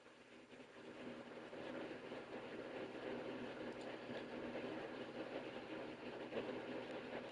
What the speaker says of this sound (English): This is a train that hasn't gone through departure yet.